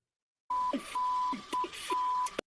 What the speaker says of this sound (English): Oh, that's the beeping one